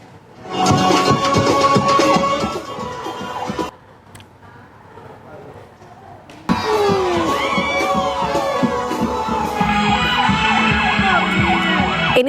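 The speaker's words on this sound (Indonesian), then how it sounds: "Sebuah mobil ambulans yang melaju dengan sirine menyala di Jalan Poros Trans Sulselbar" A siren wails from a speeding ambulance on the Trans Sulselbar road, loud and close, with warbling rising and falling tones over crowd noise and shouting, briefly dropping away before returning strongly.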